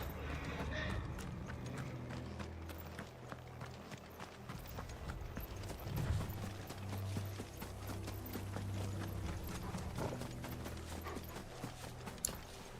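Steady rhythmic hoof clopping of horses trotting on a hard surface in the video game Final Fantasy XVI, with a faint rattling mechanical undertone and a low rumble beneath.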